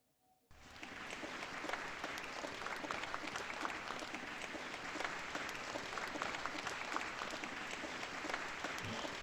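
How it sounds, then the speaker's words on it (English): Recorded audience applause, looped in post-production so the same clapping repeats, begins suddenly after a moment of quiet and holds a dense, even wash of clapping throughout. "we didn't have enough applause, so I had to loop the applause"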